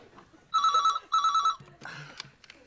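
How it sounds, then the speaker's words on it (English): An electronic telephone rings indoors at night in two loud, close trilling bursts, followed by softer rustling and a brief voice. "Phone, Rab! Hey, I hear it."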